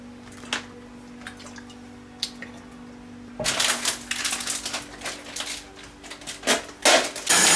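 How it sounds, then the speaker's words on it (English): A knife chops garlic on a cutting board in a kitchen, quiet taps at first, then a fast run of close, crisp repeated knocks. "And then we chop the garlic."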